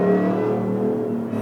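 2017 Ford Raptor or 700hp 2016 Shelby F150 pickup on a drive, giving off a steady high whine over a constant low engine hum from inside the cab, with no talk.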